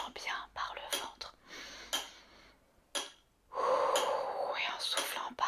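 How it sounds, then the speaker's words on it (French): Slow deep breathing, drawing in through the nose and exhaling through the mouth in a relaxation exercise, close and soft, with a long airy exhale near the end; someone speaks gently in French between breaths. "On inspire par le nez et on souffle par la bouche."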